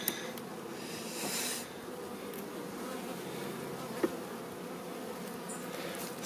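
A honeybee colony from a newly made swarm hums in a continuous low drone while its hive is opened for inspection, with a couple of small sharp knocks and no voices.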